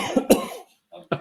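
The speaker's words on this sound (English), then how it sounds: "I was trying not to cough, but it caught up to me." A person coughs twice in quick succession, close and loud, followed by a brief pause and a short throat-clearing sound.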